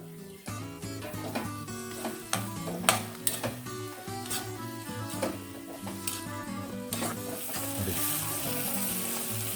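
Steady sizzling from a pan of tomatoes sautéing for a crab masala, with occasional clinks of a utensil stirring, close by, building slightly louder toward the end, no talking.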